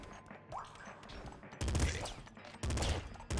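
An assault rifle firing rapidly in the video game Nuclear Throne, with two loud, close bursts of fast shots standing out over quieter game sounds and small impacts.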